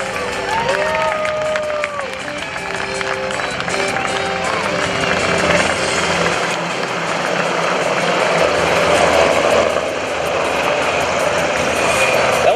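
Four UH-60 Black Hawk helicopters of the Rhode Island National Guard fly a demonstration at an Air National Guard open house and airshow, a steady loud rotor and engine roar mixed with crowd noise throughout.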